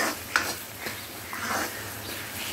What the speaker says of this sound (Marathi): अजून 1 मिनटं आपण याला छानपैकी परतून घेऊयात